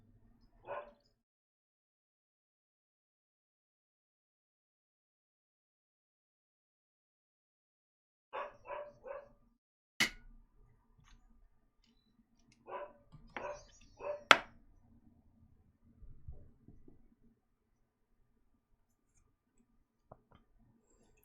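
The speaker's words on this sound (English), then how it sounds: "If that you can hear the dog." A loud female dog barks in short bursts indoors, a single bark, then clusters of two or three spaced across a long stretch with quiet gaps and faint ticking between.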